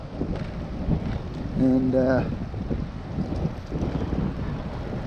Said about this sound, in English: really stiff breeze today, right up to being a wind